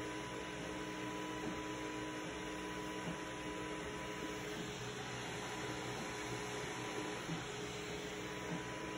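A Mingda 3D printer running a lithophane print gives off a steady, continuous mechanical hum and whir, with faint motor tones and soft ticks throughout and no talking.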